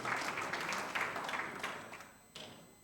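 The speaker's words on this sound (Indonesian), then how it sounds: "Oke, sambut dengan kembali tepuk tangan bagi Tuhan Yesus." Church congregation applauding at a Sunday worship service, a moderate, steady patter of many hands that thins out and fades within a few seconds, with a brief final burst near the end.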